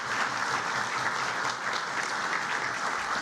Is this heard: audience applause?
yes